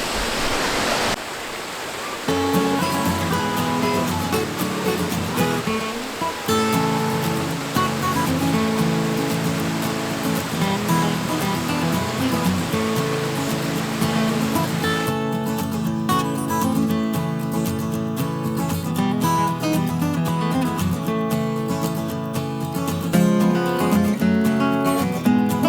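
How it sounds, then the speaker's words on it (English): Coal Creek Falls on Cougar Mountain gives a steady, broad rush of falling water, continuous and unchanging throughout, with music playing over it. "here's the second official falls, Coal Creek Falls."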